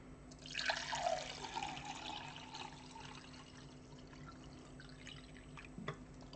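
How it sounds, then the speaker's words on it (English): Water is poured into a glass, starting with a bright splashing burst that settles into a steady stream, then fades out into quiet room hum; a faint tap or clink comes near the end. "I'm just gonna wait to see if people respond while I pour some delicious, delicious water for myself."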